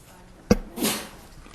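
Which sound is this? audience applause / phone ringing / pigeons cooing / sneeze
sneeze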